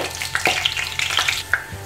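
Four or five whole garlic bulbs fry in about a quarter cup of oil, giving a steady close sizzle with crackling pops and a few light scrapes near the end.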